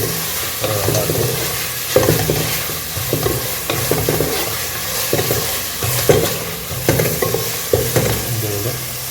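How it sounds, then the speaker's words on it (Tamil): Mutton for biryani sautés in oil with a loud sizzle, broken by rhythmic scraping stir strokes about once a second, close and clear with no talking. "மட்டன் 1 கிலோ ரைஸ்க்கு 1 கிலோ போட்டிருக்கேன் மட்டன். இந்த எண்ணெயிலே கொஞ்சம் வதங்கணும்"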